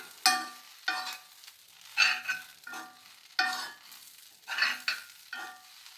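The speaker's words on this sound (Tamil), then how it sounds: "எல்லோரும் சேர்ந்து காரமெல்லாம் மிளகு தூள் காரமெல்லாம் இதில் சேர்கிற அளவுக்கு நல்லா கிளறி விடணும்" Bread cubes and vegetables with pepper powder being tossed and stirred in a hot pan: about eight distinct, rhythmic spatula scrapes, each with a short sizzle, close and clear with no voices.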